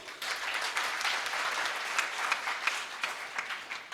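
Audience claps at a public kavi sammelan poetry gathering, a dense, even round of applause from a crowd in a hall, sustained and fairly loud with a few sharper claps standing out.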